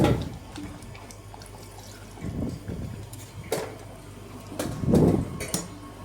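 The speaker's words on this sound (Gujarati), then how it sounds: "ઉપરથી પાણી નાખશું થોડું" Water splashes and clatters into a metal pot of undhiyu in a few uneven bursts, with faint kitchen clinks between them.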